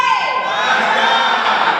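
A crowd at a Togo flag-raising ceremony lets out a loud, sustained burst of cheering and shouting, with high voices whooping together for the whole short moment.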